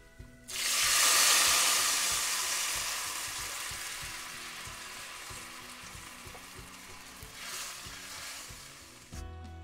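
Thick tamarind water is poured into a pan of frying dal and chillies, bursting into a loud hiss and sizzle that slowly settles into steady bubbling frying, with a brief rise of stirring near the end.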